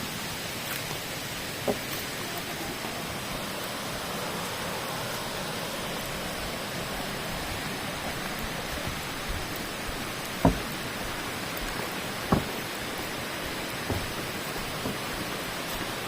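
A clear stream runs beside the forest path at Than Sawan waterfall in Phayao, giving a constant, even rush of flowing water with a few faint clicks scattered through it and no talking.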